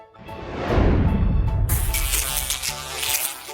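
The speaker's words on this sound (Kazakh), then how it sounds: "Шыбын." A housefly buzzes close by in a loud, continuous drone that swells and shifts in pitch for a few seconds with nothing else around it.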